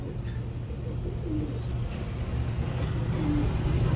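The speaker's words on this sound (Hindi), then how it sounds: "सियालकोटी कबूतर है" Green-necked Sialkoti pigeons coo in low, soft phrases that come and go over a steady background hum with faint traffic.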